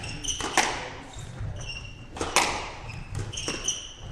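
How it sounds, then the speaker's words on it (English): A squash ball struck hard in a match at the Frans Otten Stadium, sharp loud cracks and wall bounces in quick rally rhythm, echoing in the court with crowd noise underneath. "even I can hear the ball is getting louder because they're hitting it harder"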